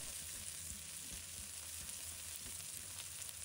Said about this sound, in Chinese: 泡椒放入锅中，小火慢慢的煸炒，煸炒出香味和辣味